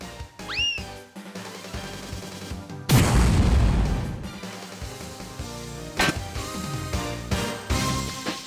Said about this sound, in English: Here goes my impact bomb.